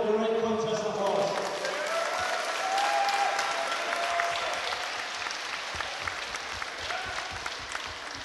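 Crowd applause and cheering at a boxing contest, a dense, steady roar of clapping and shouting that holds for the whole stretch, with an announcer's voice audible over it at the start.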